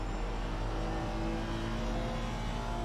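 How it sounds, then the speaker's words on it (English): A Honda race car engine in a racing video game drones steadily at high revs, with a loud sustained tone and whine and no breaks. "Listen to the sound that the Honda makes for a bit."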